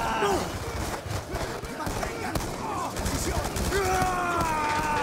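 Gunfire in the video game Call of Duty: Black Ops II, rapid bursts of automatic shots and scattered single cracks layered over game sound effects, dense and continuous.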